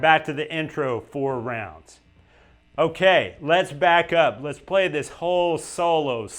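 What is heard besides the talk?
No everyday noises stand out.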